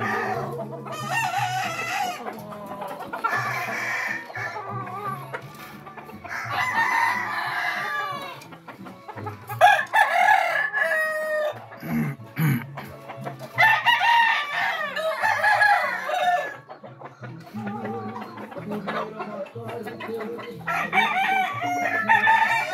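Fighting roosters on a ranch crowing repeatedly, with long drawn-out calls from several birds overlapping and clucking in between, close and clear, while people talk quietly in the background.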